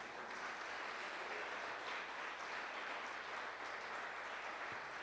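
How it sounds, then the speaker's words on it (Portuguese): A church congregation applauding during a sermon, a steady dense wash of clapping that holds evenly for the full stretch with no voice over it. "Você pode aplaudir o Senhor por isso?"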